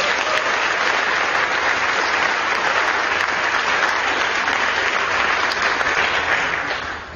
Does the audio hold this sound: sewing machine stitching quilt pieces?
no